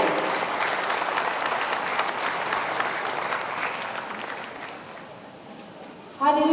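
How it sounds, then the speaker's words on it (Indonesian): An audience applauds at the opening of a talk show, sustained clapping fading gradually before a voice begins at the very end. "Kita berikan tepuk tangan atas pembukanya acara ini."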